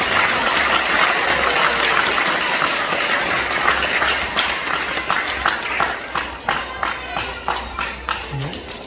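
Children and a festival crowd applaud loudly and steadily, in a dense wash of claps that thins into more distinct, rhythmic clapping toward the end.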